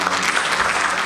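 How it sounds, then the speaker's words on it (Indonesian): A concert crowd at TBY applauds for a guest being introduced, a dense, loud, steady wash of clapping throughout. "Oh, Gusti Prabu, tepuk tangan Gusti Prabu."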